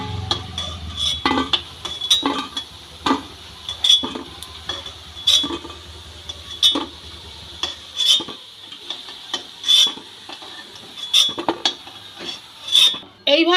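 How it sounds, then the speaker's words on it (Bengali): Fried fish roe fritters, Bengali-style macher dimer bora, are lifted out of a frying pan with a metal utensil. Regular scraping clinks against the pan repeat every second or so over a faint sizzle, close up and alone. "মাছের ডিমে বড়াগুলো ভাজা হয়ে গেছে। এবার আমি তুলে নেব।"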